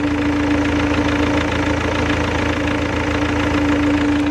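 A 2004 Mini One's petrol engine idles steadily close up, a constant even hum with a low droning tone and no changes in speed over a few seconds.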